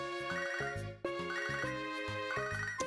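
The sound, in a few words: phone ringing in video game Pokemon HeartGold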